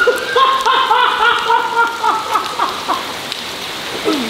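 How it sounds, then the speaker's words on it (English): Steady torrential rain hissing across the whole stretch, with a few brief tonal chirps and faint sounds layered over the continuous downpour. "It is fucking torrential rain."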